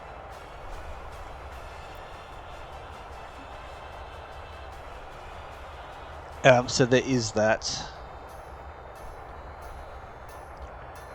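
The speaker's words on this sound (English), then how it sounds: "How fast is this train actually going?" A train runs at about 65 km/h, a steady low rumble of rolling wheels heard from on board throughout, with someone speaking briefly over it.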